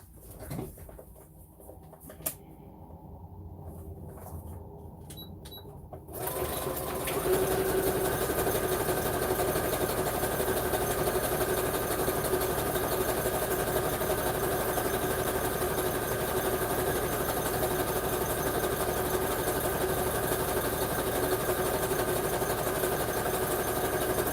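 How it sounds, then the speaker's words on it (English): A sewing machine stitches rapidly around the edge of a junk journal page, a steady mechanical whir that starts after a few quiet seconds and keeps running without pause to the end. "I'm going to take this page and I'm going to stitch around it really fast."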